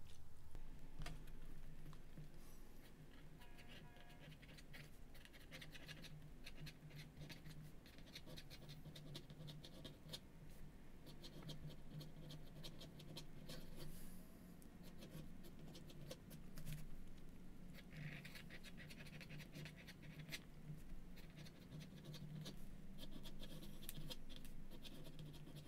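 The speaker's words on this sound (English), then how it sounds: "Now I'll write without using pressure." A Fountain Pen Revolution pen with an ultra flex nib writes on paper with no added pressure, giving faint, continuous scratchy strokes with small breaks between them, close and quiet.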